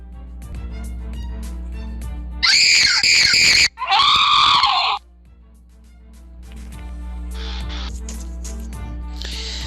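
A girl lets out two loud, long, shrill screams back to back, cutting briefly between them, over a low steady background hum.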